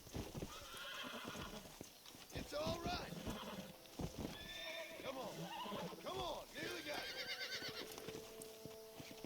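A horse being broken in the Red Dead Redemption video game bucks and stamps, its hooves clattering while it gives several loud, repeated neighs and snorts close by.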